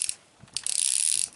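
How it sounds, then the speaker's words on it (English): A ratchet strap on an awning tie-down is cranked tight outdoors, giving a close, loud run of rapid metallic clicks with a few brief pauses and no talking. "And you take your ratchet strap."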